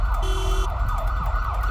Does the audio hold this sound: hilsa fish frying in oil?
no